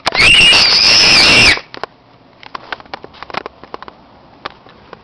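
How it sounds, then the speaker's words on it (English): A loud, sustained high-pitched scream lasting about a second and a half, followed by scattered faint clicks and rustles. "I heard a bad scream."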